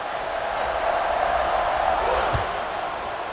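Stadium crowd in College Football 26 cheering as a steady, dense roar, loud and sustained throughout with a brief thud partway through.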